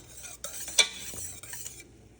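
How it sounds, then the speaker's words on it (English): A spoon scraping and stirring thick fudge mixture in a pot over medium heat, soft close swishing strokes with a brief clink, low and steady with no voices. "Just keep stirring."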